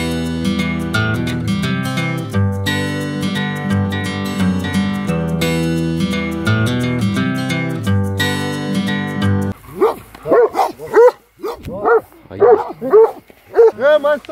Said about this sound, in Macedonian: Мајсторе, кучиња!